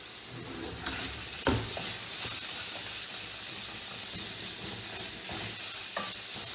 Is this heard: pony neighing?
no